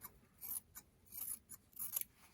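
Small scissors snip elastic on a cloth face mask, a quiet, close series of quick cuts in a loose rhythm.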